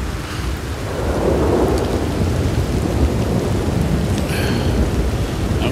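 Rain and thunder in a cowboy video game: a low, rolling thunder rumble builds over a steady hiss of rainfall, alone and without talk.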